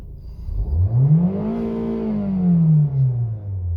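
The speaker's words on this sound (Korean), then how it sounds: "악셀 밟아볼게요" A 2005 Kia Cerato gasoline automatic's engine revs up steadily under acceleration, its pitch rising then holding and easing, loud and close, with a low rumbling drone and no talking.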